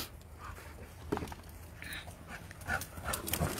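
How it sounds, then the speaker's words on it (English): Three dogs playing roughly outdoors, with panting, scuffling and small whimpers in an irregular, busy stream, moderately close. "There's all three bad dogs."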